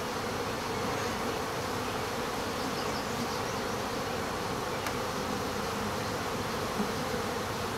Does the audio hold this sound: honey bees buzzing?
yes